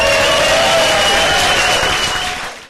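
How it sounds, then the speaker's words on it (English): Comedy club audience gives loud, dense applause with whoops and cheers, holding steady before dropping off sharply at the end. "let's get that foot stamping, whooping and cheering going"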